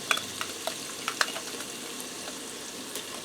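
Diced garlic fries with browned ground beef in a pressure cooker, a soft continuous sizzle broken by a few sharp spoon scrapes and clicks near the start.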